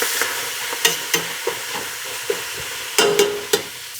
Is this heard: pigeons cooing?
no